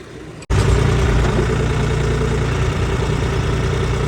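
A John Deere tractor's diesel engine starts up and settles into a loud, steady idling rumble, close by and alone without talk.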